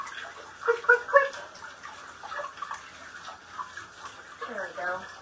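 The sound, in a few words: rinsing canned beans under running tap water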